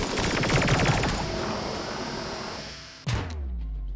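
Rapid bursts of gunfire in the video game RimWorld rattle in a dense chattering volley, then fade, followed by a single sharp blast near the end and a low ringing tail.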